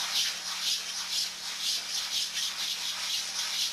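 Sandpaper rubbed by hand over the tip of a model aircraft, an '87 Nobler, steady rhythmic hissing strokes close up and fairly loud, without talking.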